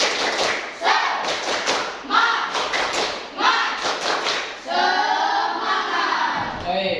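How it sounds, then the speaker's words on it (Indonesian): A classroom group performs a rhythmic spirit clap, a patterned series of sharp claps and thumps in quick bursts, loud and close, with children's voices calling out between and over the clapping. "semuanya tepuk semangat"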